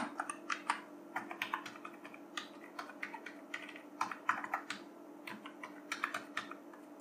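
Fingers tap out a long password on a computer keyboard, a quick irregular run of light clicking keystrokes close by, with a soft steady hum underneath and no talking.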